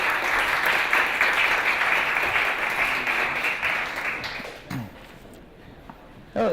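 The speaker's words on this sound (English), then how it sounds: "Welcome on the stage. Applause," A conference audience at South Summit 2017 claps loudly to welcome speakers onto the stage. The applause holds steady for several seconds, then fades out into a quiet room with a few small stray sounds.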